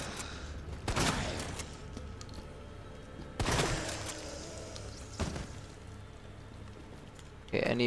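Gunfire rings out in the Resident Evil 2 Remake video game: a few sharp, separate shots several seconds apart over a low ambient background, with a voice talking in between.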